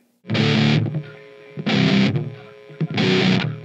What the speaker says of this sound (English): So there's the there's the main riff.